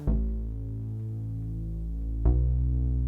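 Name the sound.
Nord keyboard recorded takes played back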